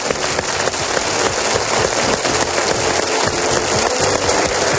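A television gala audience gives loud, sustained applause after a copla performance, a thick, crackling patter of clapping that continues evenly from start to finish.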